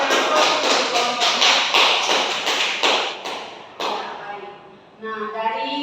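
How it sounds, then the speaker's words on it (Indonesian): Classroom applause for a student group: many hands clapping in a dense, lively burst that fades out, followed by a voice speaking. "Kita berikan aplaus untuk kelompok."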